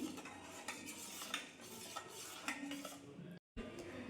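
A spoon stirs solkadhi in a vessel, with quiet repeated clinks and scrapes of metal against the pot at an irregular pace, pausing briefly near the end.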